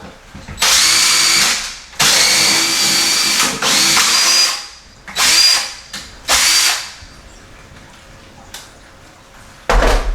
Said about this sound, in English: Take a drill.